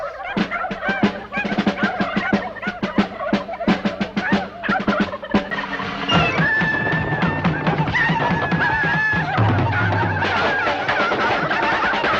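A flock of turkeys in a video game gobbles continuously in rapid, overlapping bursts, loud and busy throughout.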